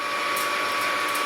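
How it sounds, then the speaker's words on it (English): A boring machine turns slowly at about 300 RPM, taking about 40 thou off a hydraulic press cylinder, giving a steady, dense, close-up whirring hiss with no talk. "we're starting the boring process"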